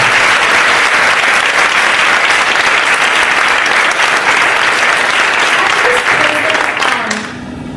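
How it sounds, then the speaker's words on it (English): Student senate assembly members deliver loud, dense applause for Josh, a sustained roar of many hands clapping close by for about seven seconds before fading into murmurs. "So if you want to stand up and give Josh a round of applause."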